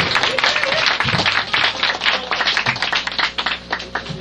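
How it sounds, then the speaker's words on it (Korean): Lively audience applause for a band at a live music show, dense close clapping with scattered cheers, steady for a few seconds before thinning slightly. "다시 한번 뜨거운 박수 부탁드립니다."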